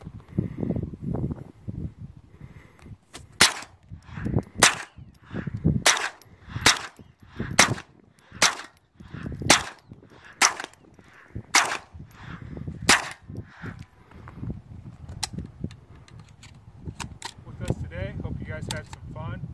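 Sharp, loud cracks from a .22 rifle fired outdoors in the desert, about a dozen evenly spaced shots with ringing impacts, while people talk between them.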